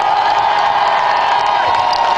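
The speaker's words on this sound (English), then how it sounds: "Everyone, round of applause for Peter." A concert audience bursts into loud, sustained cheering and applause, whoops and claps blending into a dense wall of crowd noise throughout.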